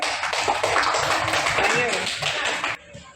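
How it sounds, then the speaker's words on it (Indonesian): A classroom of fourth-grade pupils claps for a discussion group, a busy, fairly loud patter of many small hands that stops abruptly near the end, with a brief spoken word over it. "Tepuk tangan untuk kelompok 2."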